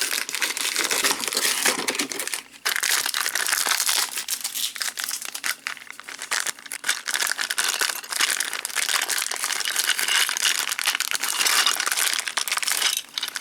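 Plastic packaging from a Transformers Studio Series Constructicons Hook and Long Haul toy being torn open and crumpled, a loud continuous crinkling and crackling close up with only a brief break.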